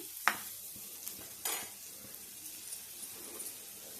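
Thinly sliced onions frying in a pan for egg tawa masala, a quiet steady sizzle with a couple of sharp clinks and scrapes of a stirring utensil, close but faint.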